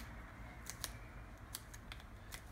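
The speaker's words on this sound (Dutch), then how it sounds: "En knip de peper." Kitchen scissors snip through a chili pepper in a home kitchen, several short crisp cuts in quick clusters, close and alone with no talking.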